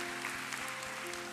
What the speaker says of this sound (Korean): 날마다 새로운 길을 내시는 그 하나님께 우리 감사와 영광의 박수 함께 드리도록 하겠습니다